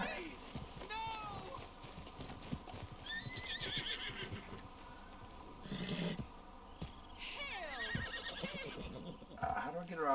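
Horses neighing and whinnying with hooves clip-clopping in the Red Dead Redemption 2 video game, several rising whinnies spread across the clip amid thuds and scuffling, with people talking over the top.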